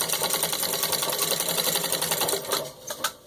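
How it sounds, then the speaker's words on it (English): An antique Wheeler & Wilson No. 9 treadle sewing machine stitches at full speed, a fast, even mechanical clatter close up that slows and stops with a few final knocks. "Doing a full speed stitch test too"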